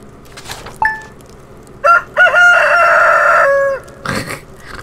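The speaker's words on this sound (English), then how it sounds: "God, that freaking rooster." Rooster crowing in the farming video game Stardew Valley: a short cluck-like call, then a loud, drawn-out cock-a-doodle-doo, followed by soft clucks.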